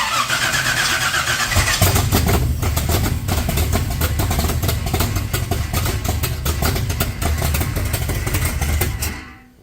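A 462 cubic-inch big block Chevy V8 fitted in a Nova fires up for the first time, cranking straight into a loud, rough, lumpy rumble that runs steadily close by, then cuts off abruptly at the end.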